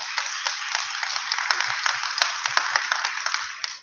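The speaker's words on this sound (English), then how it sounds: "give your families and parents a round of applause as a thank you today" Broad, steady crowd applause at a technical high school signing day, students clapping for their families and parents, dense and continuous with scattered sharper claps, at moderate distance with no clear talk.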